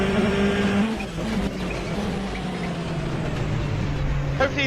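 GT3 race cars at the Daytona 24 Hours roar past on track, with loud sustained engine noise, shifting pitch as they pass and a brief tire squeal, heard alone without talk.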